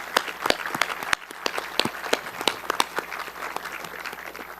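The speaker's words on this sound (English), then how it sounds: "Let's give them a big round of applause." A small outdoor crowd at a September 11th monument dedication in Springfield claps for the monument's builders, with sparse, distinct hand claps of varying loudness scattered through a steady, moderately near patter.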